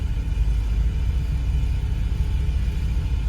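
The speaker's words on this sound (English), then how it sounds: "Then we're gonna drive it around and get it warmed up a little bit." Ford Gran Torino fitted with Holley Sniper EFI, the engine suffering a stumble, running as a steady low rumble heard from inside while driving to warm up, with no talk.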